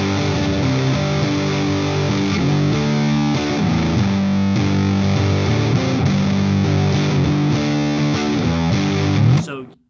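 Overdriven electric guitar, a Gretsch G5230T Electromatic Jet on its rhythm pickup through a Blues Driver pedal, plays a continuous, loud rhythm part with a gritty, crunchy tone, ending abruptly near the close.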